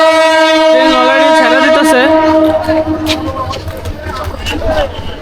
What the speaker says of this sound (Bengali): ট্রেন ছেড়ে দিতেছে।